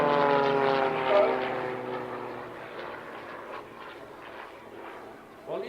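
Propeller drone of Harvard aircraft from an aerobatic team performing at an airshow, a steady droning engine note that swells and fades as the planes pass, heard under continuous talk from an announcer.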